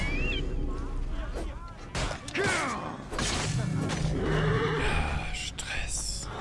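A horse neighs in the video game Assassin's Creed Origins, its whinny rising and falling amid voices, thumps and other game sounds.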